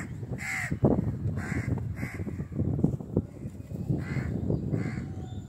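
Close crow at a house railing giving harsh caws, around six calls at irregular intervals over steady low background noise and occasional thumps.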